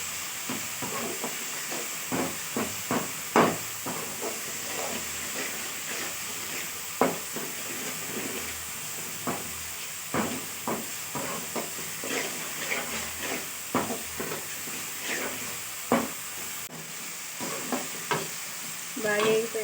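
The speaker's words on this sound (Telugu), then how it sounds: "నాకైతే టమాటాలు కూడా వేగుతున్నాయి అన్నమాట ఇప్పుడైతే ఇందులో ఒక టీ స్పూన్ ధనియాల పొడి హాఫ్ టీ స్పూన్ పసుపు వేసేసుకొని బాగా కలిపేసుకోవాలన్నమాట" Tomatoes fry in a pan for egg masala while coriander powder and turmeric are stirred in, giving a constant sizzle with repeated scraping stir strokes at an uneven pace close by, and no talking.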